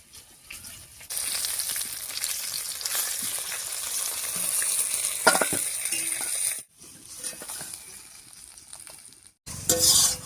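Koi fish fry in hot oil, a loud, bright, continuous sizzle with crackling spits, broken by two brief pauses as the pan is handled, then resuming sharply; no voices.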